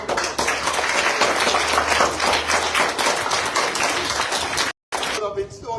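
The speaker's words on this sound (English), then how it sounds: "Let's give him a round of applause." Applause from a school gathering at Woburn Methodist School greets Apostle Randy Bowen, a loud, dense round of clapping lasting several seconds with a brief break near the end before talk resumes.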